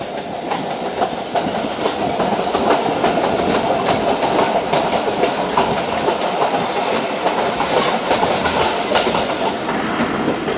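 The Thal Express passenger train runs along the rails past a station, a loud steady rumble with rapid rhythmic clickety-clack of wheels over joints, heard close from on board.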